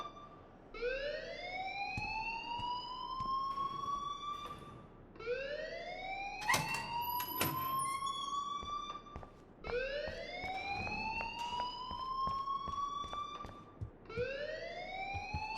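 A rising, repeating electronic alarm wails in the Life is Strange video game, each cycle sweeping upward for about four seconds before restarting, loud and insistent with faint clatter between.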